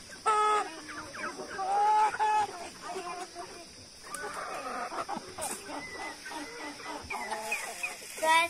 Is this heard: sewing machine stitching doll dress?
no